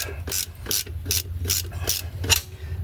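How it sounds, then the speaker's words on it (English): A small hand wrench ratchets on a screw during transmission-to-engine assembly on a 2009 Dodge Journey, giving six or seven evenly spaced clicking strokes over a low hum, close up. "I have to use my little wrench to get it"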